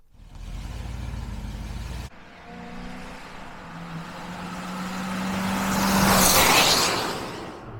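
A 1976 Mercury engine idling too low runs roughly, then a steadier mechanical drone slowly swells louder toward the end with a hissy rush before easing off.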